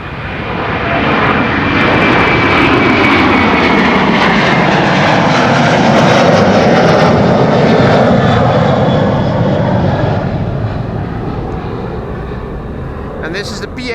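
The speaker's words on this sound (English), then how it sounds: "KLM Flight 651 to Washington." A KLM airliner departing on a runway at Schiphol roars loudly and steadily, its engine sound swelling to a peak and then slowly fading as it passes.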